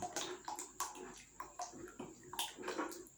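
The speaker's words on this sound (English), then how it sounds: "Just keep stirring. It's very thick now." Thick liquid soap rig wash mixture being stirred in a container, with wet, slurping squelches repeating in a steady rhythm at close range and no talking.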